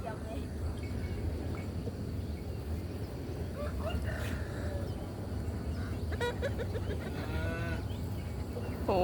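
Low mooing calls from water buffalo, including a calf and its mother, rise out of a noisy outdoor farm scene, with people talking throughout.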